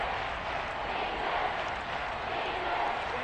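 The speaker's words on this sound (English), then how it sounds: "The crowd here in the Dome making things difficult." A dense, steady stadium crowd roars without letup inside the Dome during a Saints football game, a broad, continuous wash of noise at even loudness throughout.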